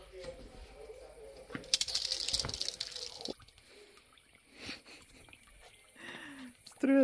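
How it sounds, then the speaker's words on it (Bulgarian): Water jet from a hose filling a newly bought jacuzzi at a village house in the evening, with weak water pressure; a steady splashing, trickling stream runs throughout, louder in the middle, with some speech and background sounds around it. "Струята е малко слабичка, ама такова е налягането на село."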